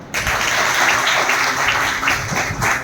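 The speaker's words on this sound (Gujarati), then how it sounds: "જોરદાર તાળીઓ થઈ જાય" A crowd applauds steadily for a few seconds at a school Teachers' Day celebration, dense clapping that stays fairly even throughout.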